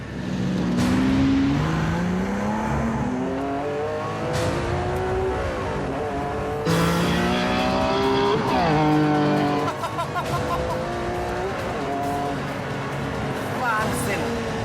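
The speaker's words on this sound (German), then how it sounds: "Der 12-Zylinder dreht so schnell bis 8000 Touren hoch, dass Matthias kaum mit dem Schalten hinterherkommt." Maserati MC12 Corsa V12 engine revving hard to about 8000 rpm while driving, rising pitch sweeps broken by quick gear shifts, loud and close, with a voice talking over it.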